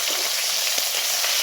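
Chillies frying in hot hilsa fish oil give a dense, even sizzle and crackle, close and steady throughout this brief moment, with no voices.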